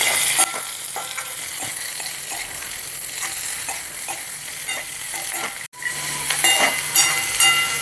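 Onions and spices sautéing in a pan for dosa masala give a steady, close sizzle with stirring scrapes, broken by a brief gap before the frying noise resumes.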